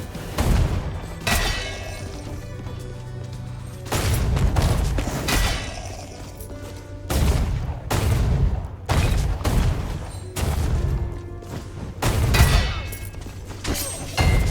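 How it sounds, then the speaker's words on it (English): Bursts of small explosions in the roguelike game Rogue Legacy 2 go off in repeated booming clusters over busy game music, loud and near, with several distinct blasts spaced a second or two apart. "little explosions, pretty useful"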